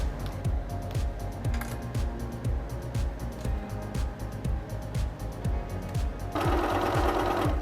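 Sewing machine stitching a seam on a puppy Halloween costume, a steady rapid mechanical chatter of the needle close up, running continuously and growing slightly louder and busier near the end.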